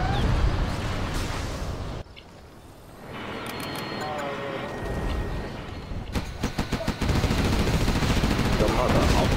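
Rapid bursts of Gatling tank cannon fire in the strategy game Command & Conquer Generals Zero Hour, with loud crackling volleys and battle noise. Unit voice lines are heard through the clip.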